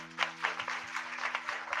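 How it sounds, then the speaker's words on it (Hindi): A church congregation claps together during a Hindi sermon, giving a steady patter of many hands at moderate distance with a faint hum underneath. "यीशु मसीह के लिए थोड़ा ताली दो,"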